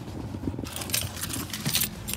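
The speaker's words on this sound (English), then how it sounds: "Oh, almost forgot the keys." Metal keys jangle in short bright rattling bursts, close by, over a low background hum.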